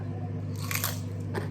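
Someone bites into crunchy oven-baked potato, two or three crisp, crackling crunches up close over a steady low electrical hum, with no talking.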